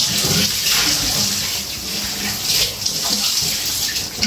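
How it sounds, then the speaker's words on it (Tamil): Water is poured into a cooking pot to cook turkey berries, giving a close, continuous splashing gush that lasts a few seconds. "இப்போ நம்ம சுண்டைக்காய் வேகிறதுக்கு தண்ணி ஊற்றிக்கலாம்"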